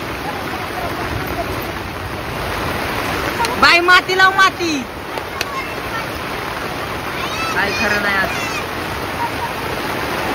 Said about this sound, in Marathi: मित्रांनो एवढा जबराट आलाय ना पाऊस काय खरं नाही गड्या